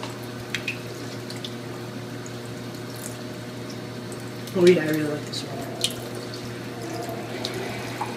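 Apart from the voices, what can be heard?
school water fountain running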